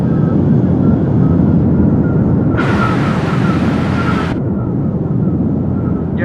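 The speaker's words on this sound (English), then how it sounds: "there's the wind sounds" Rushing wind in a flight simulator game with the flaps being pulled: a loud, steady whoosh that swells into a brighter, harsher roar for a couple of seconds, then settles back.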